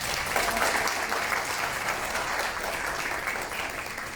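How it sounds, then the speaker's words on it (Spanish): An audience at a panel discussion on adequate housing applauds warmly to welcome a speaker to the main hall, with steady, dense clapping that holds at an even level throughout. "a Omar Flores de FESPAD, a quien recibimos con un cálido aplauso también."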